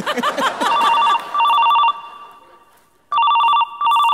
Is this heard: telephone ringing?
yes